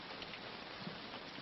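Steady rain falling in a 1951 western film scene, a continuous soft hiss of drops on a surface with no voices, quiet and even throughout.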